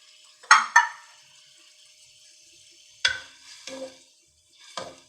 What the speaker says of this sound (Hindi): सबसे पहले आपने जो है इसके मसाले को भून लेना है।